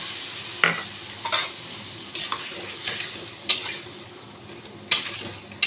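Boiled potato and cauliflower are stir-fried with ground cumin, coriander, chilli and turmeric, a spoon scraping and clinking against the pan in repeated strokes over a low, close sizzle, with no talking.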